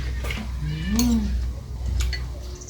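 A ladle clinks against a metal pot while scooping termite mushroom curry, a few sharp scrapes and taps spaced over a couple of seconds, close up, with a quiet voice briefly in between.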